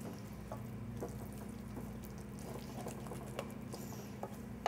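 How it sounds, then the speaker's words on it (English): Water splashes and patters steadily while a cook cleans up around a stovetop where polenta is being stirred, faint and continuous over a low, steady kitchen hum. "Just clean up my mess because I'm splashing water all around."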